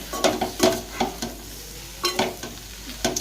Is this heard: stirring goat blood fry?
yes